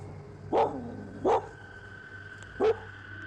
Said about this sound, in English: the uploader's dog acting up, barking and howling toward the area where the figure paces